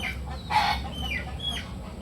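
A big gamecock rooster weighing over two kilograms clucks nearby, with a short burst of fowl calls over a low steady background hum and no talking.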